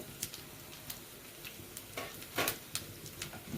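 Sesame and poppy seeds crackle and sizzle in hot oil with cumin and coriander while being stirred in a pan, giving sparse, sharp pops over a quiet, steady fizz.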